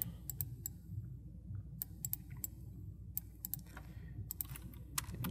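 Quiet, close keystrokes on a computer keyboard come in short bursts of crisp clicks with brief pauses between, over a low steady hum, no one speaking.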